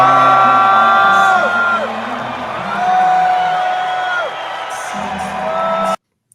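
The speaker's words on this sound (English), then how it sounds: "it does look like lots of people in there are booing" An audience in a hall boos in long, drawn-out, sliding tones, a loud crowd sound close to the recorder that swells and fades before cutting off abruptly.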